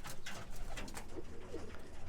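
Roller pigeons coo softly over a steady outdoor background, the low calls faint and intermittent.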